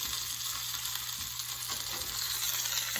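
An elk round roast sears in a hot pan, giving a steady, close sizzle and crackle of frying meat throughout, with no talking.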